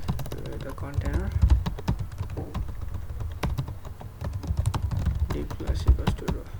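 Computer keyboard being typed on while writing web code, quick irregular bursts of clacking keystrokes up close, with a person talking over them.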